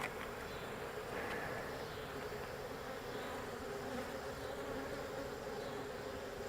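Honey bees buzz steadily around an open beehive during a hive inspection, a close, continuous droning hum with no talking.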